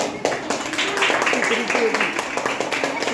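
Scattered applause and clapping from a prize-announcement audience at a state-level abacus competition in Washim, a loose patter of hands running steadily under talk.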